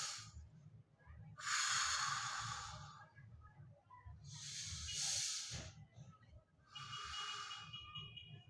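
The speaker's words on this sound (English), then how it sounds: "what you want to do is just take deep breaths from your stomach" Deep stomach breathing, with three long, airy breaths hissing close to the microphone at an even pace over a low murmuring background.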